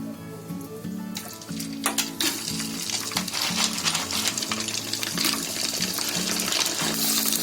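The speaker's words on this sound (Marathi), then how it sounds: "आता हे आपले पापड बघूया तळून" Papad drops into hot oil and puffs as it deep-fries, setting off a sudden loud bubbling sizzle that builds into a steady crackling roar, with a low tonal hum running underneath.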